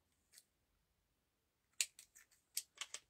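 Scissors snip ribbon for a handmade Valentine's card: one faint cut, then a quick cluster of sharp, close snips after a pause, in an otherwise quiet room.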